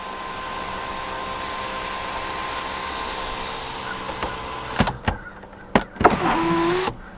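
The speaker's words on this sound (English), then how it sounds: "the control for the panoramic moonroof that goes all the way across" The motor of the panoramic moonroof on a 2018 BMW X1 sDrive28i M Sport whirs steadily inside the cabin. Near the end a few clicks and thumps break up the hum before it rises in pitch.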